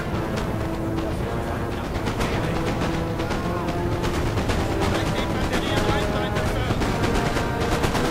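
Musket volleys ring out in a Napoleonic battle in the video game Napoleon: Total War, with dense crackling shots layered over a constant roar of battle noise and music, steady and loud throughout.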